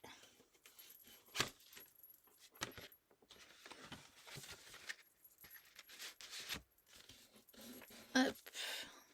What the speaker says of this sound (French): Hop, on fait les plis. Bien faire partout les plis.